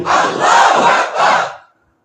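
A large crowd at a Bengali Islamic sermon gathering shouts Allahu Akbar in unison in reply to the Nara-e-Takbir call, two loud swelling chanted phrases that cut off into silence.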